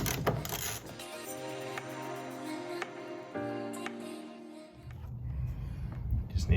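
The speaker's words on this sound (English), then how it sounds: "You need a 7mm socket wrench to undo this bolt right here." A 7mm socket wrench undoes a bolt under the underside of a four-door Ford Bronco, giving a quiet, steady mechanical ratcheting with tonal ringing, fairly close but soft, with faint noise and no talking over it.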